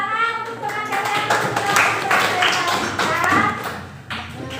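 In a classroom during a teacher-training lesson, a group applauds the presenters with a dense patter of clapping that stays fairly steady. Voices talk over the clapping the whole time.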